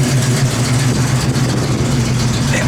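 A 1971 Ford Mustang Mach 1 with a rebuilt engine and a mild cam idles steadily with a deep, even low rumble, loud and close, with no talking over it.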